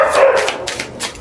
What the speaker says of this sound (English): I'm really sorry about the dogs.